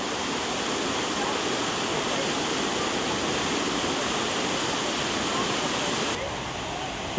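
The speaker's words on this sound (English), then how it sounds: "The flow of water is rather strong, and people are struggling to keep their boats in place" Strong rushing water pours into a canal lock chamber near Béziers, a dense, steady roar at constant loudness, with a brief cut in the top end near the end.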